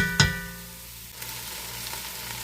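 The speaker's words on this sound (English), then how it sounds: "Let that saute for a couple minutes." Vegetables lightly salted and sautéing in a pot for chicken soup, a quiet steady sizzle after a brief knock at the start, no talk.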